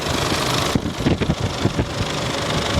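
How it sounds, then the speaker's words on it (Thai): A 2008 Isuzu MU-7 3.0 VGS diesel SUV engine idles with a steady, rough low rumble and a faint irregular knock, close by and continuous. "เดี๋ยวผมให้ฟังสีเครื่อง"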